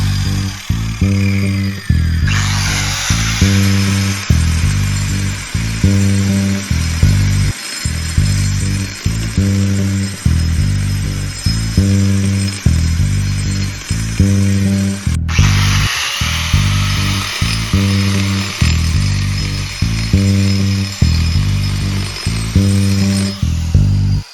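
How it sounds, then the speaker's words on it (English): A diamond grinding wheel grinding Stonecraft fireplace stone during a DIY fireplace build gives a loud, sustained abrasive whine, starting after a couple of seconds and briefly cutting out midway, over a steady rhythmic thumping beat. "I'm gonna take my diamond grinding wheel, and I'm just gonna grind this stuff like that."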